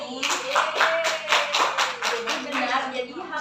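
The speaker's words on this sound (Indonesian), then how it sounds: "Tepuk tangan untuk Rini." Classmates applaud a student in a school classroom after a correct answer, a steady burst of many hands clapping for about three seconds, fairly close and moderately loud.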